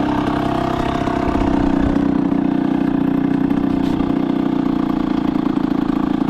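Derbi Senda motorcycle engine idling after a small carburetor adjustment during a rebuild: a loud, close, steady mid-pitched putter that holds evenly throughout with no talk.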